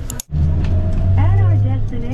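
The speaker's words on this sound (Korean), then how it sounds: "다음에는 버스를 탔습니다." Riding a bus along a mountain route on the Alpine Route in Toyama, Japan, with a steady low engine hum and rolling road rumble filling the cabin, and a brief dip before the drone resumes.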